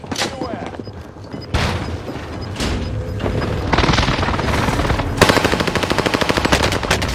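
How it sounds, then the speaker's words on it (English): Precision airstrike explosions and rapid machine-gun fire in the Warzone video game on Rebirth Island, sharp booms early on giving way to a sustained loud burst of automatic gunfire, with a voice talking over parts of it. "Alloy precision airstrike incoming"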